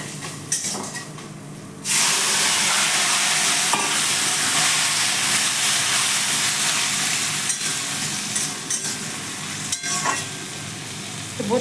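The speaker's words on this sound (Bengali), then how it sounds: "এবারে আমি দিয়ে দেবো লাউটা।" Chopped bottle gourd dropped into a hot oiled pan bursts into a loud, steady sizzle that holds throughout, with occasional scrapes and taps of a spatula stirring the pieces.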